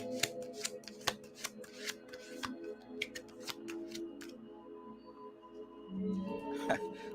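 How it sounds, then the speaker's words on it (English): A deck of tarot cards is shuffled briskly and repeatedly at close range, with crisp riffling snaps and shuffles over several seconds. "I'm shuffling this up real good"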